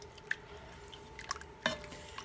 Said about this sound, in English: Just going to stir that around a bit.